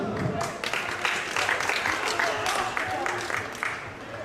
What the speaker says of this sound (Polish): Wielkie brawa dla Torunia